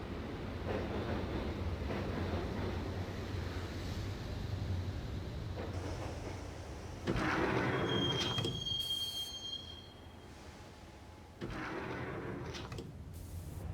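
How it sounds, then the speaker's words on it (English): A subway train rides through the tunnels of Max Payne on the way to Roscoe Street Station, with a constant rumbling roll, a bright wheel squeal partway through and recurring bursts of louder rattling. "the train doors had already shut behind me, and I was in for the ride"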